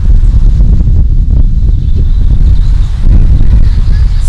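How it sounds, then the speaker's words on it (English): Strong wind blowing over a carp fishing bay buffets the microphone in a loud, constant low rumble that lasts throughout. "the wind was still pushing into this bay"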